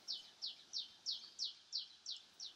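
A house finch sings a run of eight evenly spaced, bright warbling notes, clear and fairly close over quiet background.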